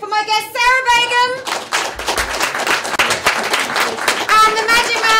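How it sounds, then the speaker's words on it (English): An audience claps a round of applause for guest Sarah Begum at a business club spotlight show. Dense, steady clapping lasts about three seconds between stretches of bright tonal music. "I'd just like to have a big round of applause for my guest, Sarah Begum."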